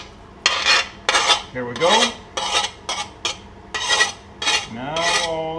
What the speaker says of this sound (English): So we are adding the chicken with the onion.